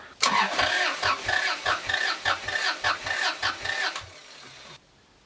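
Starter cranking the twin-turbo Toyota Supra JZA80 engine during a compression test, a steady rhythmic chug of about fifteen compression strokes over four seconds, loud and close, then cutting off abruptly.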